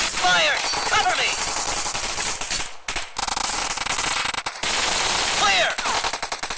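Rapid automatic gunfire in PUBG Mobile rattles out in loud, close bursts with brief gaps between them, while voices are heard over the shooting.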